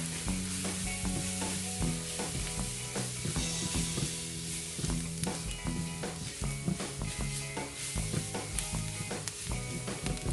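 Onion and garlic sizzle steadily in a hot pan as a tablespoon of all-purpose flour is stirred in for a creamy white salmon pasta sauce, with close, continuous frying hiss and repeated scraping stir strokes throughout.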